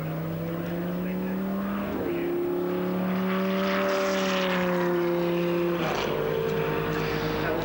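A GT race car at Silverstone during 2001 FIA GT Superpole qualifying drones past, heading back toward the pits. Its engine holds a steady tone, then shifts up in pitch with a gear change, heard amid a constant trackside roar.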